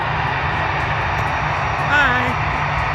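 At a runway at 2 AM, a distant airplane's engines drone and rumble steadily in the cold night, with a faint whine rising briefly near the end.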